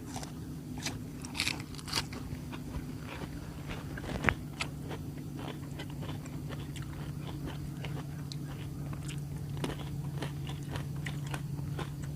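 Crunchy chewing of sweet baby corn served with spicy mala sauce, a run of close, crisp bites and moist crunches that repeat irregularly over a faint steady background hum.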